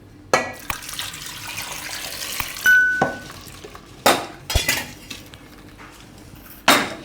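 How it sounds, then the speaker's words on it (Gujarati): Water poured from a tap into a pressure cooker of potatoes in a home kitchen, a running stream amid clinking metal and pots, with several sharp clanks near and fairly loud. "આમાં આપણે પાણી નાખી દઉં."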